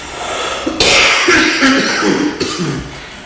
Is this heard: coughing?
yes